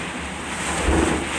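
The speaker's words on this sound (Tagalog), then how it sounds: "Lalakas ang ulan, mga idol. Nagdilim-dilim na naman panahon. Hangin-hangin na naman." Steady wind roars against the microphone with a dense wash of rushing noise, like heavy rain driven by gusts.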